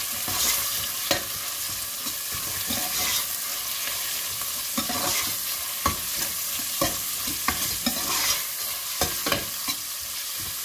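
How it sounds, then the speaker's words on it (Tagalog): Meat sautés in a hot pan as the base for a monggo mung bean dish, with a steady soft sizzle and frequent scraping stirs of a utensil against the pan, close up and without talk. "Pag nag-brown-brown siya, igisa natin yung karne."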